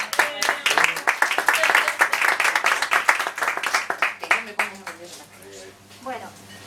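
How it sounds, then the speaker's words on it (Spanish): An audience claps at a talk on an antinuclear manifesto, a loud burst of applause that tapers off after a few seconds while someone speaks over and after it. "Un aplauso para Ricardo"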